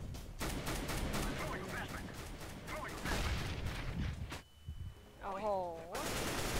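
Rapid gunfire in a CS:GO match rattles in close, repeated volleys, followed by a brief quiet and more shots, while a commentator talks excitedly over it.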